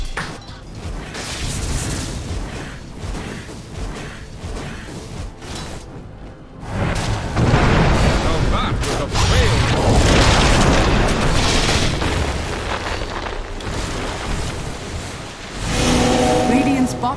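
A bottom tower under attack in Dota 2 during a pro match brings loud, dense bursts of impacts, booms and whooshes that pile up and surge, with crowd noise and commentary beneath.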